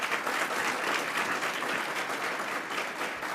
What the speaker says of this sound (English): Can you help me give the team a big round of applause?